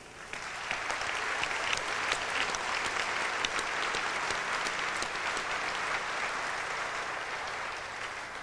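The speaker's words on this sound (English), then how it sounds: "I want to give a round of applause to these volunteers who do an excellent job here" An audience gives a steady round of applause for volunteers at a 1997 Apollo astronauts panel in Pensacola, the dense clapping holding evenly for the full length and tapering only slightly at the end.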